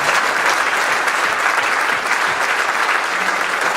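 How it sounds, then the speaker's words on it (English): Audience applause for the sponsors at a golf industry panel event, dense and steady clapping from a full room that runs unbroken throughout at an even loudness. "So again, a round of applause for"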